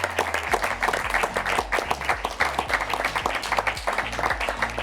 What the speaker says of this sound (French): Vous avez le droit de vous auto-applaudir.